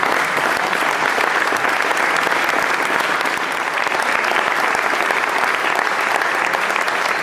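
At a political party's closing event for European primaries, a crowd applauds loudly and continuously, thick even clapping with no break.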